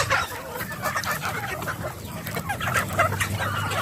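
Backyard chickens cluck busily at feeding time, a continuous close chorus of short clucks and calls from several birds.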